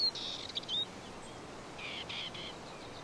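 A Dartford Warbler singing on heathland, brief thin scratchy phrases at the start and again a second later, faint and somewhat distant over a quiet outdoor background.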